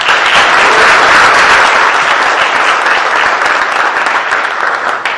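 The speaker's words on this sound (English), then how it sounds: "Let's give them a round of applause." Loud, sustained applause from the audience at an SNCO induction ceremony, a dense even roar of clapping that continues unbroken and fades only slightly at the very end.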